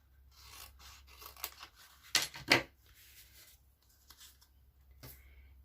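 Scissors cut paper tabs for a stamped gift bag, with a few quiet snips and rustles of paper and two sharper cuts in the middle, close by.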